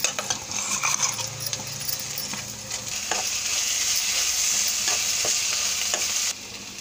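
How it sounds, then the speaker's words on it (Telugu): Ground gongura leaves frying with onions in a pan give a steady close sizzle, with spatula stirring and light scraping clicks against the pan throughout. "గ్రైండ్ చేసి పెట్టుకున్న గోంగూర కూడా వేసేసి ఇందులో వేయించుకుందాం"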